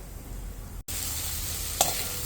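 Oil sizzles and crackles steadily as mustard seeds, chana dal, urad dal and dried red chillies fry, with a brief clatter partway through and no voices.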